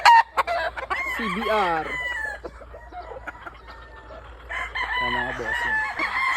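SBR P-comb gamefowl roosters on a farm, crowing repeatedly and clucking at close range, with someone speaking briefly between the calls.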